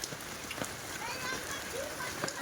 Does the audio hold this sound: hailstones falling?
yes